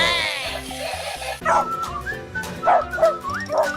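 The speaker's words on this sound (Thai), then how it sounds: "dog" A toy police dog wearing a bone tag on its collar plays a recorded bark sequence: a few electronic woofs and yips close up, with a short jingle-like tone at the start.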